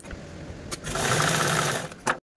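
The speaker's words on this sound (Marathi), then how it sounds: "मी या लेसला डबल फोल्ड करून स्टिच करून घेतलेला आहे" Sewing machine stitching a double-folded saree lace border for a baby-shower oti rumal pouch, running in a steady close whirring burst that swells midway, alone with no talk, then stops abruptly.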